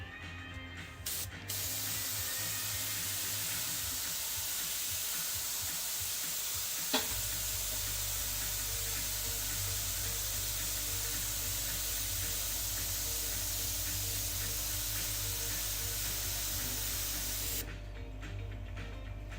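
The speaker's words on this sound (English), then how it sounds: "it kinda like breaks up the paint, but somehow it sprays really well" An airbrush sprays newly tested paint in a long, steady, close hiss lasting most of the clip, with a brief click partway through and clicks of the trigger at the start and end.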